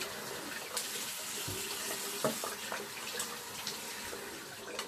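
Cold water running from a bathroom tap, a steady soft splashing stream with a few brief clinks and knocks near the sink, fairly quiet and close.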